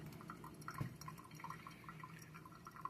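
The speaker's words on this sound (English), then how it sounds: "My drip pot will still be dripping." Mr Coffee drip coffee pot keeps dripping after switching off, faint scattered drips falling at irregular intervals over quiet background noise.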